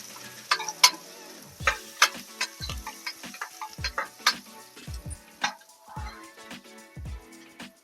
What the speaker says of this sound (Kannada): ಈಗ ಇದೆಲ್ಲ ಫ್ರೈ ಮಾಡೋಣ ಸ್ವಲ್ಪ